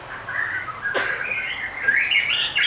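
A caged white-rumped shama of the red-capped murai batu variety sings close by, clear whistled phrases with a sharp rising note partway through and brighter trills toward the end.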